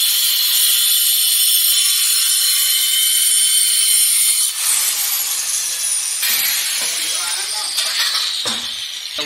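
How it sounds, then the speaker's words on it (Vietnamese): A cutting machine and an engine run at a construction site, a steady loud high hiss and grind with harsh bursts as the blade bites, while people talk faintly underneath. "Tiếng động cơ và tiếng máy cắt xen lẫn với tiếng cười nói."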